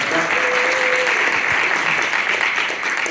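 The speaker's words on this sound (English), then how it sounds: "Give her a round of applause" An audience at a presentation in Vienna breaks into loud, sustained applause, a dense wash of clapping that fills the whole stretch without pause.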